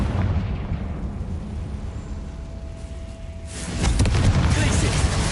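The Confringo fire spell in Hogwarts Legacy sets off a booming explosive burst partway through, following a quieter, rumbling stretch of game ambience.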